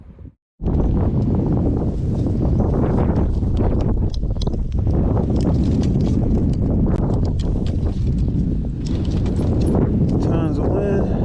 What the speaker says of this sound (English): Tons of wind. Goodness gracious, this wind is not playing around.